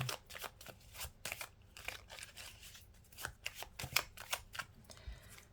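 Tarot cards shuffled by hand for a reading, a rapid series of crisp riffling and slapping bursts in an uneven rhythm, close but fairly quiet, with no talk.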